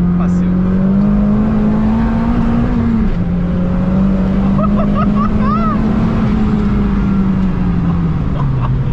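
Mazda MPS with over 500 hp, engine droning steadily and loud at a held pitch, bouncing against the rev limiter inside the cabin, with brief squeal-like tones partway through.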